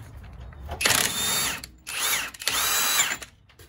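A Hercules impact wrench takes off a 36 mm axle nut on a 2000 Jeep Cherokee Classic, firing in three loud, close bursts of whirring, hammering rattle separated by short gaps.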